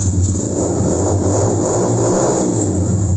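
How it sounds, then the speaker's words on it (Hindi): A mini ATV quad bike engine revs hard under the throttle, a loud, close, continuous mechanical drone with rising and falling pitch and no talking. "ये गाड़ी की रेस है"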